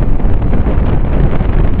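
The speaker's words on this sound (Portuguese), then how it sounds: "O vento tá tão forte aqui que tá me levando" Strong coastal wind by a lagoon and the sea buffets the microphone in a loud, steady, low roar with no pauses.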